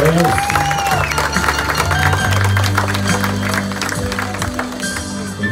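Audience clapping at a quinceañera as a dama and her chambelán are presented, moderate applause running under loud tonal music that dominates the mix throughout.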